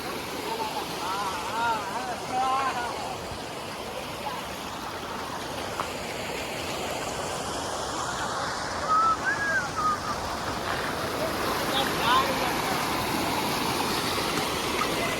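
A hidden waterfall near Udupi roars in a steady, broad rush of falling water that fills the whole scene, with people talking faintly over it.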